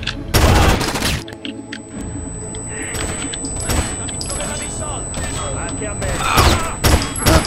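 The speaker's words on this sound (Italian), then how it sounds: "Chi sta sparando di là?" Gunfire bursts from the Rainbow Six Vegas video game, with loud volleys at the start and end and scattered shots and thuds between, close and heavy, mixed with people talking throughout.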